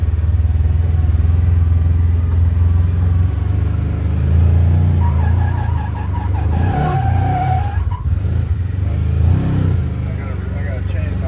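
A Kawasaki Teryx KRX 1000 two-wheel-drive side-by-side grinds through woods over logs, its engine droning steadily with rising revs and tire scrabbling, close and continuous while people talk over it.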